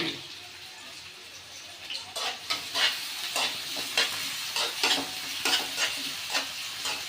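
Chopped tomatoes go into a hot pan for paneer curry and fry, a bursty sizzle with rhythmic stirring scrapes that swell and fade repeatedly, close and fairly quiet, with no talking.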